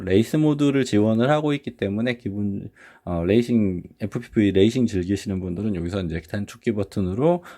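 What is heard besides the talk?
No everyday noises stand out.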